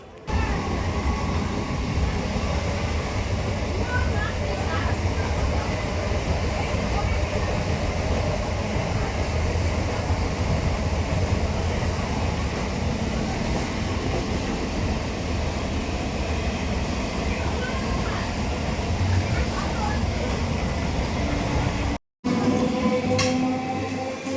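A train rumbles steadily for over twenty seconds on a trip to Mayapur, a loud, even, low roar of rail travel that cuts off abruptly near the end.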